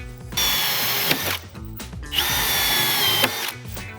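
A power drill drives screws into a stair tread during decking stair assembly, two sustained whirring bursts of about a second each, loud and close, separated by brief pauses, with no talk.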